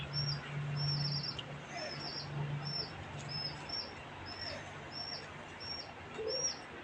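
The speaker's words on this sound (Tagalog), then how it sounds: "Kasama yung dalawa natin kalapate." Pet pigeons, including a checkered hen, give low, soft coos in short bursts over steady background hiss, with faint high chirps repeating throughout.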